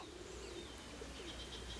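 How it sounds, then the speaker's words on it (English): Pigeons or doves cooing nearby, soft repeated coos and light chirps over a faint, steady background hiss. "Look at these birds. What do you think they're here for?"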